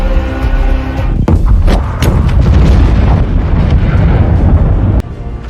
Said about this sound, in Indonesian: Firewall virus yang ditanam mulai bekerja dan meledakkan fasilitas nuklir